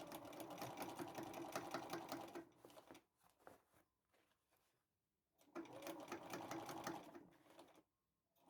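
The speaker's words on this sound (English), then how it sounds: "So I'm going to now sew it all around." A sewing machine stitches around a fabric bucket hat in two loud, steady bursts of quick needle chatter, with a few seconds of faint ticks and handling between them and a short pause near the end.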